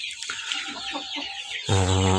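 Domestic chickens cluck close by in short, rapid calls, followed by a louder, drawn-out squawk at the end.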